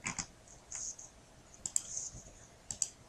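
Several sharp mouse clicks while a title is selected in a word processor, arriving in small irregular clusters, close and fairly quiet with no voices.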